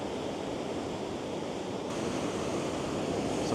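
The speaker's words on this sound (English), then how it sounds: "There's some big swells coming through, like that one there." Big swells break against a rocky shore in a continuous soft roar of surf and wash, heard from some distance and fairly quiet, with a slight swell in intensity partway through.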